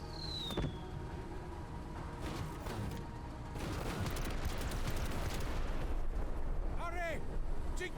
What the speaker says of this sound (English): Here comes the enemy artillery.